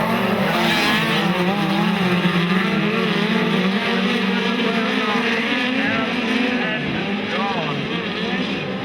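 Speedcars roaring around Maryborough Speedway during a Queensland Speedcar Title race night, a loud sustained engine drone with shifting pitch as the cars accelerate, under a race commentator's voice.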